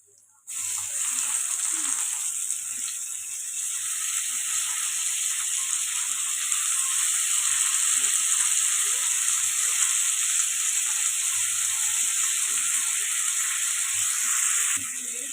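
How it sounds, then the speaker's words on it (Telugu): Plantain pieces fry in a pan over ginger-garlic paste for a plantain pulusu, giving a steady, close hiss of sizzling oil throughout, with faint stirring scrapes underneath. "అరటికాయ ముక్కలు వేసుకున్నాం కదండి ఇప్పుడు కలుపుకొని ఫ్రై చేస్తుంది"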